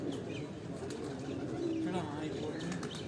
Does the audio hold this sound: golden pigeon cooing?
yes